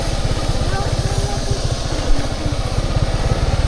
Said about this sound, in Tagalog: Pero may nakasalubong tayong motor, ah.